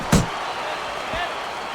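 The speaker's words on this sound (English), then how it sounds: "Mike Tyson's hurt by a superb hook to the head" In the Xbox 360 boxing game Fight Night Champion, a sharp, heavy punch to the head lands as Mike Tyson fights George Foreman, followed a second later by a softer second thud over ongoing game background sound.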